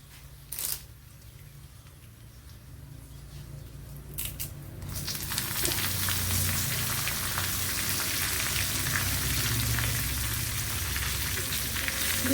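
Chili and curry leaves drop into hot coconut oil, and after a few quiet seconds the pan bursts into a loud, dense, steady sizzle that crackles on to the end.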